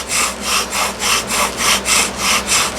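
A bow drill spindle spins in a soft wood board, its bow strokes making a loud, even rhythm of rasping friction sweeps, about eight close passes with no talking.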